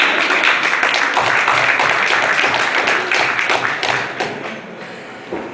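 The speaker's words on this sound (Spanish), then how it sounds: "aplaudan" Sustained applause from an audience at a press conference for the X-Pilots motorcycle stunt tour in Tijuana, dense clapping throughout that thins out and fades toward the end.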